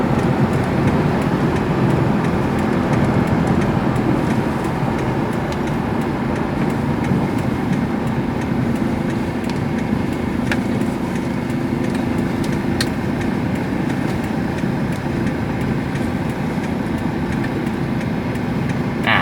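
Inside a Toyota Hilux Vigo Prerunner on Maxxis AT700 all-terrain tyres entering a curve, a steady low rumble of road and tyre noise with engine drone, even and unbroken throughout.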